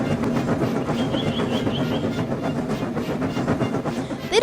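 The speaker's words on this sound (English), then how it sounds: "even the big express engines must pull goods trains sometimes" A big express steam engine hauls a goods train of trucks, a steady chuffing rumble with rhythmic clickety-clack of wheels and a faint whistle-like tone, heard close and continuous.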